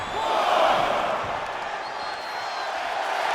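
A large crowd in the WWE 2K25 wrestling video game roars and cheers steadily throughout, a dense wash of arena noise that swells slightly early on and holds at a loud level.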